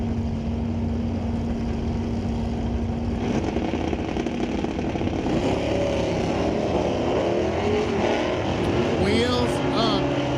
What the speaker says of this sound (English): Wheels up as we leave the starting line